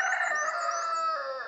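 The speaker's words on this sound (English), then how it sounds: "Hopefully the chickens are going to bed soon." A rooster on a small farm crows loudly and close at nightfall, one long drawn-out call with clucking tones, with no other sound behind it.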